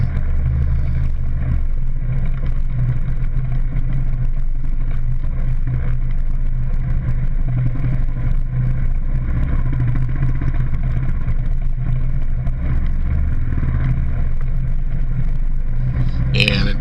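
Kawasaki KLR motorcycle riding off-road through a muddy area, a loud continuous engine drone with steady low rumble and wind buffeting throughout, while a voice talks over it.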